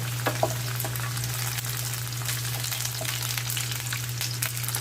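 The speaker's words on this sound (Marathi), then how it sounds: "कांदा झाल्यावरती मी इथे अद्रक टाकत आहे" Onion and ginger sauté in a pan for a restaurant-style matar paneer, giving a soft, steady frying sizzle close by with a few light clicks and no voices.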